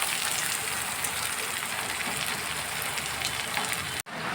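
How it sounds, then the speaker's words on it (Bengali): Chopped onion frying in oil for a Bengali spiced egg curry, giving a steady, close, even sizzle that crackles without a break before cutting off abruptly near the end. "পেঁয়াজটাকে আমি একটু লাল লাল করে ভেজে নিচ্ছি"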